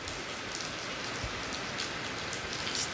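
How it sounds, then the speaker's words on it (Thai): Steady rain pours down and patters on surfaces nearby during a September storm, a constant hiss with small drop ticks scattered through it and no talk. "เปิดมากับฝนตกแล้ว"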